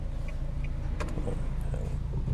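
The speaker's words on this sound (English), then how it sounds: "So wait for this car to pass." A car drives along a road at a distance, giving a faint, steady low rumble that lasts a couple of seconds.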